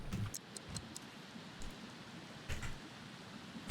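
Rain falls in The Sims 3 as a soft, even patter with scattered light ticks of drops, faint and continuous with no voices.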